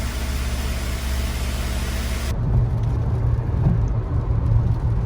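Car with a KE-Jetronic fuel-injection system on a test drive, a steady low engine drone with road and wind noise heard from inside the cabin, the hiss dropping away partway through while the engine hum continues.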